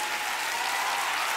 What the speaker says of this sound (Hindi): सभी बहनों के लिए लातूरवासी दो जोरदार तालियां बजाइए।